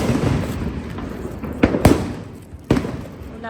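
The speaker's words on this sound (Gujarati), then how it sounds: "બીડી બોમ્બ ફોડવાના છે" Bidi bomb firecrackers set off on Diwali, several sharp loud bangs spaced apart over a noisy outdoor background, with one closely following another and a final crack near the end.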